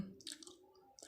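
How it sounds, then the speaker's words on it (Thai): Crunchy homemade milk tablet candy made with Ovaltine being chewed close up, a few quick crisp crunches and soft squishy bites over about a second, quiet and alone. "อร่อยมากเลยเคี้ยวเพลิน"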